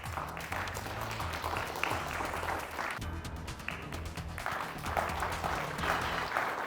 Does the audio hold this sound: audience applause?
yes